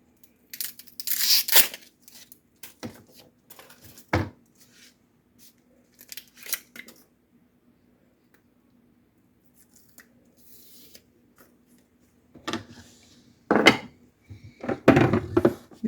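A Vidalia onion chop wizard pushes through an onion in a kitchen, giving sharp crunchy chops in irregular clusters separated by long quiet stretches, close and fairly loud.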